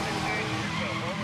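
A Dodge Challenger drifts in the 2012 racing game Need for Speed Most Wanted, its engine roaring steadily with tyre noise for a brief moment under an excited voice.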